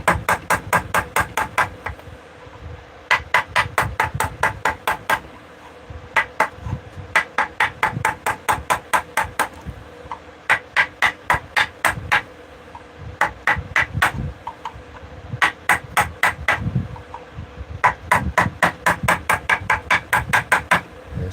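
A dull chisel struck repeatedly into beech wood while carving a spoon: close, sharp tapping blows in quick bursts of several strikes, separated by short pauses, sounding steadily throughout with no talk.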